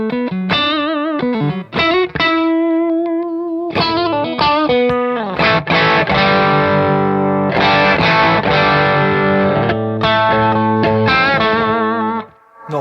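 An electric guitar played through a distortion pedal, or transparent drive, rings out as sustained, heavily saturated notes and chords, with short gaps between phrases and no talking.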